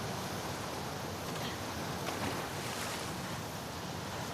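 Rushing water in The Last of Us Part II: a steady, dense wash of flowing water, loud and close, holding an even roar for the whole stretch with no voices.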